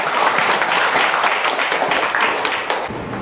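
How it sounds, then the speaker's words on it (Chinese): Applause from the audience at a 2009 Taiwanese-language poets' gathering, a dense, steady clatter of many hands clapping for about three seconds before it starts to thin out at the end. "掌声两声。"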